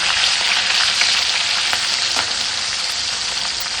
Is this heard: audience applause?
no